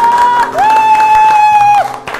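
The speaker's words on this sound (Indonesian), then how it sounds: "Kasih tepuk tangan yang lebih dahsyat lagi buat Tuhan Yesus" Church congregation applauding at a teen worship service, dense sustained clapping and crowd noise with a loud sustained tone cutting through, continuous and close throughout.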